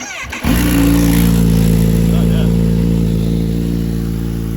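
A Kawasaki Z H2 motorcycle with a new Scorpion Serket slip-on exhaust starts with a sharp crank and settles into a loud, steady, throaty idle close by, running continuously without revving.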